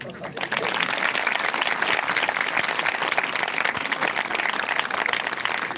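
A church congregation clapping hands together at an Odia Christian prayer service, dense steady applause from many people, sustained and close, with voices mixed in.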